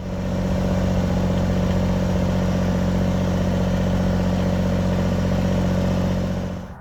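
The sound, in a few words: Kubota BX compact tractor running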